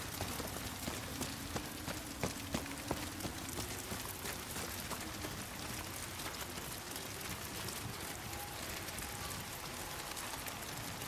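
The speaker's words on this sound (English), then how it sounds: "I do like how rainy it is, but the rain doesn't sound too good in this game." Steady rain ambience from the Oshima Coast in Ghost of Yotei, a soft continuous hiss of rainfall with scattered drop ticks, fairly light and even throughout with no voices.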